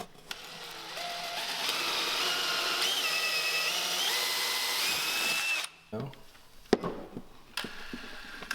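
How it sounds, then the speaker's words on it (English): A power drill bores through a metal drawer pull in a long, steady whine that holds for several seconds, then stops, followed by a few scattered clicks and handling knocks. "we're gonna go ahead and drill this out"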